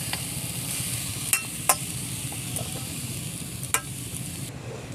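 Grated coconut sizzles steadily in a kadai as it is stirred, a constant frying hiss with a few sharp clinks of the spoon against the pan, close and alone with no talking.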